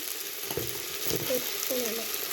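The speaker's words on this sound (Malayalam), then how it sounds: "ഇനി അരിഞ്ഞു വെച്ച ഉള്ളിയും തക്കാളിയും ചേർക്കാം. എന്നിട്ട് നന്നായി ചേർക്കുക." Okra fries in a pan with freshly added chopped onion and tomato, giving a steady close sizzle with occasional scraping stirs of a spoon throughout.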